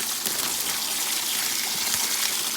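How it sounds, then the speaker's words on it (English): Warm brine is poured into a cooler over a turkey until the bird is fully submerged, making a steady, loud gushing splash of liquid that runs without pause. "pour the rest of your brine in there and completely submerge the bird"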